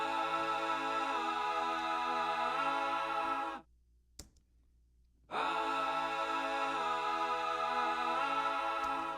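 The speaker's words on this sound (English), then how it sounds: "my oohs and ahs sound something like this" Layered oohs and ahs backing vocals for a song: dense, sustained harmonized voices holding long chords, broken by a brief near-silent gap with a small click before the stacked vocals resume.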